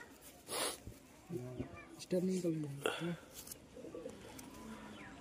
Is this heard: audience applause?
no